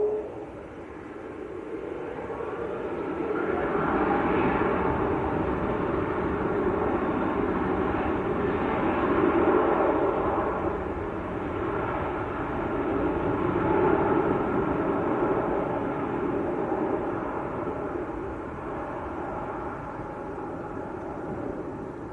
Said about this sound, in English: Air Algiers is just climbing away, making a slight right turn.